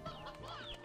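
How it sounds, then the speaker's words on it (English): Chicken in the video game Slime Rancher 2 clucking, a quick burst of close, clear clucks lasting under a second with no talk. "at least there's this chicken"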